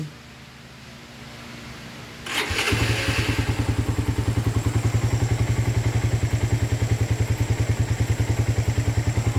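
A motorcycle with a freshly tuned carburetor starts with a thump and settles into a loud, steady, rapidly pulsing idle close by, the beat even and unbroken.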